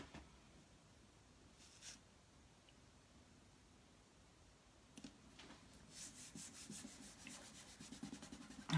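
Couture ink rubbed into a chalk stencil by hand, a soft dry scrubbing that stays faint at first, then turns into a steadier run of quick rasping strokes in the second half.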